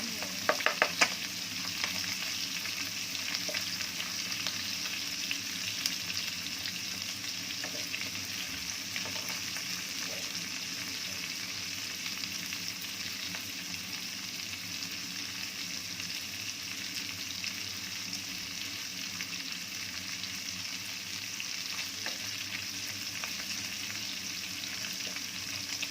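Garlic fries in a pan for pancit hab-hab, giving a steady, close sizzle and crackle with occasional stirring scrapes. It continues evenly throughout with no talking.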